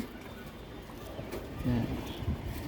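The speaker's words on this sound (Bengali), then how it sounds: "পাওয়াটা অনেক সুন্দর, কবুতরটা অনেক সুন্দর।" Pigeons kept in a home loft coo in a few low, soft bursts near the end, close by, under faint background noise.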